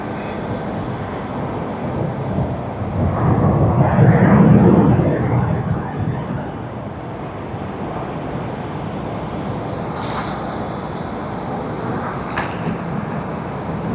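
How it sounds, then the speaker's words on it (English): An ANA Boeing 737 airliner arriving at Tokyo Haneda Airport, its engine roar swelling to a broad rumble midway and then easing back into steady airport background noise. "That is ANA Boeing 737 that has come in from Iwakuni, NH640."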